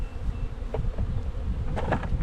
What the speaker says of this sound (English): These girls have a ton of bees in this bottom box here.